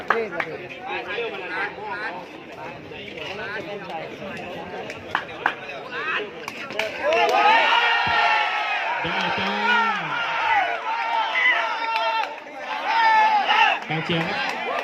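Crowd at a Muay Thai fight in Thailand cheering and shouting over a dense bed of chatter, swelling louder in bursts with whoops, while a commentator's voice runs through.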